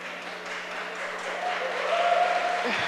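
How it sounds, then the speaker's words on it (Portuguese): Applause from an audience at a Brazilian city council session honoring women, a steady wash of many hands clapping at moderate distance, swelling slightly toward the end. "Verônica, essas palmas são para você"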